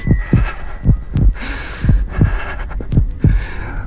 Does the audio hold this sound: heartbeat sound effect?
yes